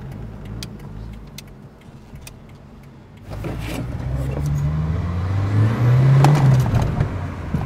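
A JDM car pulls away on a lap around the block, its engine note rising from a low idle rumble into a louder, building acceleration with a strengthening low drone toward the end.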